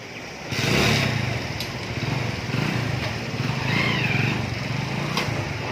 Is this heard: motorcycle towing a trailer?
yes